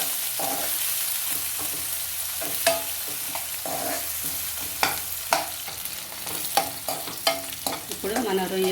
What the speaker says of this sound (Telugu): ఈ రొయ్యలు ఉల్లిపాయలు బాగా వేయించుకోవాలి